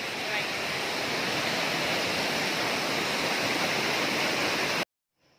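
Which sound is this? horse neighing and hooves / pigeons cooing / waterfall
waterfall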